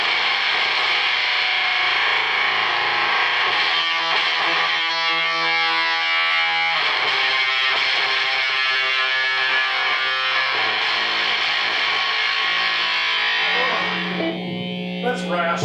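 A studio recording of a rock band cover played through a subtle distortion effect. It gives a dense, steady wash of sustained chords that drops away near the end.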